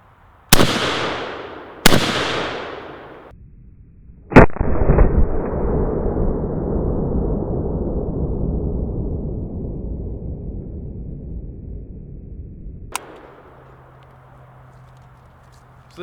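Gunshots from an M92 PAP AK short-barrel rifle with a 10.5-inch barrel, fired outdoors around evening: three sharp, loud cracks, each with a long rolling echo that trails away, then a fourth shot near the end.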